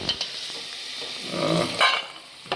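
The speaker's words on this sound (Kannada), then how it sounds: "ನೋಡ್ರಿ, ಕಡಲೆ ಬೀಜ ಸ್ವಲ್ಪ ಫ್ರೈ ಆಗೈತೆ, ಕಲರ್ ಚೇಂಜ್ ಆಗೈತೆ" Peanuts frying in a pan for a tamarind chitranna, giving a steady hiss and crackle close by, with a few stirring scrapes.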